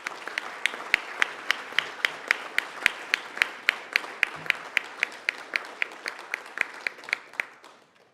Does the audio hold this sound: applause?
yes